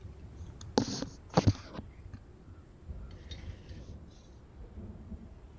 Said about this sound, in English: I think my apartment is being affected by the storm.